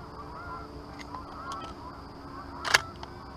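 Canada geese circling back during an early-season goose hunt give a few distant honks over a steady outdoor hum, with one louder honk near the end.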